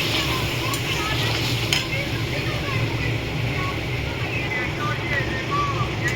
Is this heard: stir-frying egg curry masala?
yes